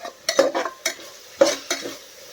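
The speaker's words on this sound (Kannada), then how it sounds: "ಆಮೇಲೆ ಆನಿಯನ್ ಹಾಕಿ, ಟೊಮೊಟೊ ಹಾಕಿ, ಅರಿಶಿನ ಉಪ್ಪು ಹಾಕಿ ಇದನ್ನು ಚೆನ್ನಾಗಿ ಫ್ರೈ ಮಾಡ್ಕೊಳ್ಳಿ" A ladle stirs onion, tomato, turmeric and salt frying in a pan for methi biryani, giving a few sharp scraping strokes over a soft, steady sizzle.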